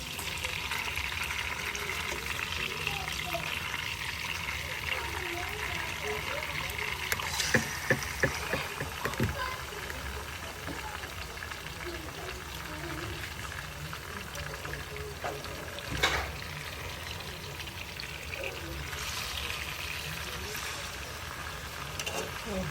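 Fish fries steadily in a pan for carrot stew, a continuous broadband sizzle with a few clattering knocks as pieces are flipped, and faint talk in the background.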